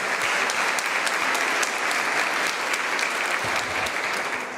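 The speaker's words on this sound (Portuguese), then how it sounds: "Vamos aplaudir Jesus" A church congregation claps together in sustained, dense applause that fills the room at a steady, loud level for several seconds, tapering slightly at the end.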